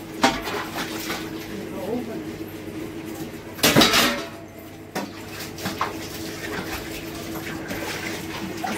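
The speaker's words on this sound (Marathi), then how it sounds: "भांडी घासणं चालू आहे" Dishes, pots and steel utensils being washed by hand, with repeated clinks and clattering of metal against metal, a louder crash midway, and people talking nearby.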